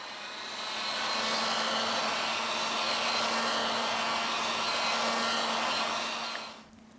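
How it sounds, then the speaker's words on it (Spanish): A heat blower runs close and steady, a loud continuous hiss and whoosh warming the back cover of an Oppo A9 2020 phone, cutting off abruptly near the end. "Aplicamos calor al dispositivo para despegar la tapa trasera."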